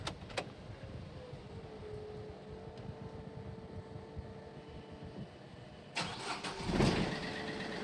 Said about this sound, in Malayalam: അപ്പോൾ നമുക്ക് ഇത് വണ്ടി ഒന്ന് സ്റ്റാർട്ട് ചെയ്യട്ടെ.